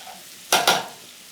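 Butter caper sauce with lemon and parsley sizzles in a pan, a quiet hiss broken by two quick, loud bursts of sizzle close together that then fade back to a low simmer.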